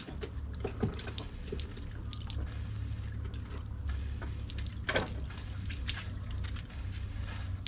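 A pressure washer pump is primed while water runs into its hose, giving a steady low hum under scattered drips, trickles and splashes, fairly faint and close, with no voices.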